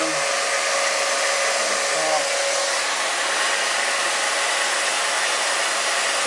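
A steady, high-pitched whirring hum from a vacuum pump spinning an aircraft gyro instrument runs continuously and evenly, loud and close, with no breaks.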